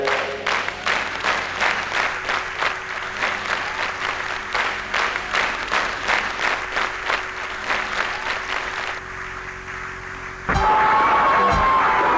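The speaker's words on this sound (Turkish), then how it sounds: "Hepsi için bir alkış." Applause from a children's cartoon audience rings out as a steady, even patter of claps for about ten seconds, then stops abruptly and gives way to a brighter, louder sound.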